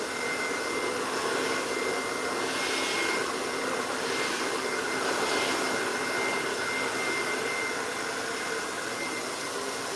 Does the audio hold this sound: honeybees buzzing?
no